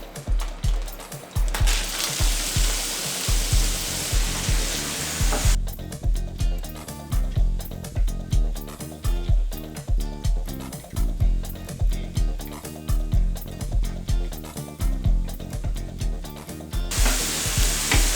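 Chopped onion fries in butter in a pan over medium flame, giving a steady sizzle broken by rhythmic bursts of stirring and scraping from a spatula, up close and fairly loud.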